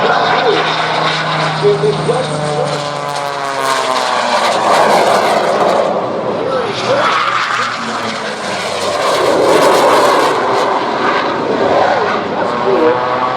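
A Yak 55 aerobatic propeller plane's engine drones loudly throughout at the Oshkosh EAA AirVenture 2021 airshow, its pitch rising and falling as it maneuvers, with voices talking over it.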